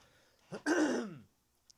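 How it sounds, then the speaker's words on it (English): One short throat clearing, a quick rasp followed by a longer rough exhale, close and fairly quiet, with no speech. "I need to clear my throat."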